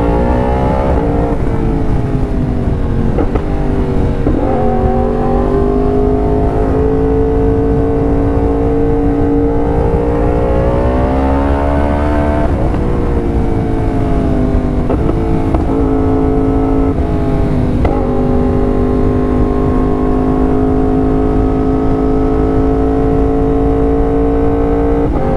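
A Yamaha R1M crossplane four-cylinder motorcycle engine revs up and down repeatedly, loud and close, its pitch rising and falling across the whole stretch with no talk over it.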